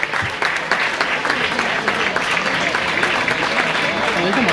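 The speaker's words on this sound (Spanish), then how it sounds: "Ellos son de Córdoba Capital y reciben este cálido aplauso." Warm, sustained applause from a crowd in Córdoba, Argentina, at a government instrument handover for a youth orchestra, loud and continuous with crowd murmur and voices mixed in throughout.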